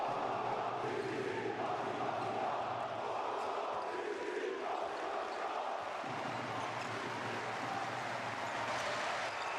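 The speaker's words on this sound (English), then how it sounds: "Look at this crowd. It is absolutely raucous." A raucous basketball arena crowd roars steadily through a pro game between Pinar Karsiyaka and Hapoel Jerusalem, a dense wall of voices that holds loud and unbroken from start to finish.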